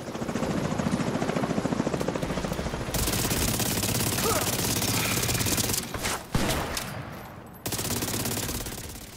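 The Grudge rifle, a CMMG Banshee variant in the shooter game The Division 2, fires in dense rapid bursts, loud and continuous for several seconds, with brief pauses near the end.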